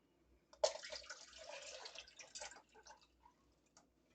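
Turkey broth poured into a pot, a brief close splashing gurgle that trails off into a few small drips in a quiet kitchen.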